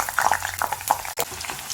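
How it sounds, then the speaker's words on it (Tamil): Brinjal pieces fry in hot oil with a steady, crackling sizzle and small popping bubbles, close by and moderately loud. "இந்த கத்திரிக்காய் எண்ணெயில் நல்லா கிறிஸ்பி ஆகிற வரைக்கும் பொரியணும்."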